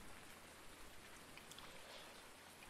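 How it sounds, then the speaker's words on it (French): Steady rain from a thunderstorm in a farming video game hisses evenly and densely, a soft constant wash with no voices. "Bon, on va s'entraîner parce qu'il y a de l'orage."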